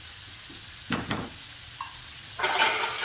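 Chicken tikka pieces with finely chopped green chilli sizzling steadily in a pan over a medium flame, with a few scraping stirs of a spoon and a louder burst of frying near the end.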